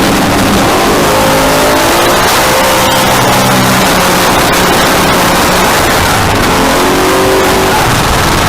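A Nissan Skyline race car roars around a track, engine loud and sustained with shifting pitch as it accelerates and revs, plus heavy wind and road noise throughout.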